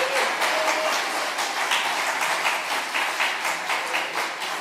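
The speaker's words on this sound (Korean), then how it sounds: "박수하십시다." Church congregation applauding during a Sunday sermon, a steady, moderately soft patter of many hands clapping in a reverberant hall, with no talk over it.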